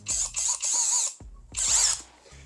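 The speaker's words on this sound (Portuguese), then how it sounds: "Deixa eu fazer mais alguns furos nele com outro tipo de broca." A FortG brushless drill fitted with a step bit bores into thin sheet metal in loud, close bursts of high whining and grinding, separated by short pauses.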